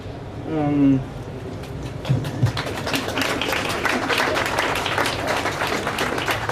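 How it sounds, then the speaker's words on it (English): An audience applauds at an evening event, a brief voice up front giving way to steady, sustained clapping from a large crowd that holds at an even level to the end. "I hope it's all right with you that we applaud them"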